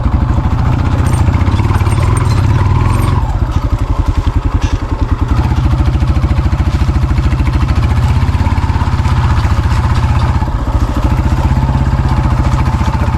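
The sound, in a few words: motorcycle engine riding a rural footpath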